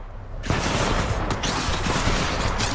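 Incoming gunfire in Titanfall 2, a dense burst of rapid shots that starts abruptly after a brief quiet moment and keeps hammering loudly to the end, with no talk.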